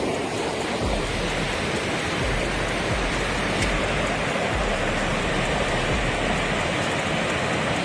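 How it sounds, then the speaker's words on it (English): Heavy rain pours down in a dense, unbroken roar, loud and close, with no voices, during flooding in northeastern Scotland. "Heavy rain fell in the northeastern region of Scotland, causing widespread flooding and paralyzing many roads."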